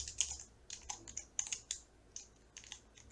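Someone types a note on a computer keyboard in Google Keep, a quick, uneven run of light, crisp key clicks at close range with short pauses, no voices.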